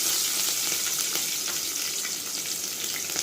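Steady, loud sizzle of peanuts frying in a pan fills the whole clip, a dense crackling hiss with small pops and no voices.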